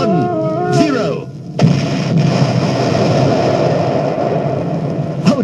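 A bomb explosion sound effect on a comedy spy record goes off after a voice, as a sudden loud blast followed by a long, roaring rumble that fills the rest of the moment.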